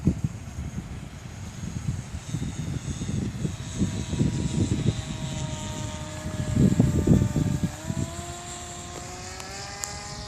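Bixler RC plane with its electric motor at full power in flight, a thin steady whine with rising tones, heard from a distance over wind buffeting and handling noise near the microphone.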